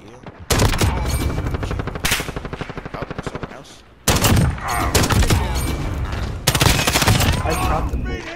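Gunfire from a Dragunov sniper rifle in a shooting video game, with rapid, sharp shots in dense bursts. Several other loud gunshots and blasts crowd the mix and stay close and loud throughout.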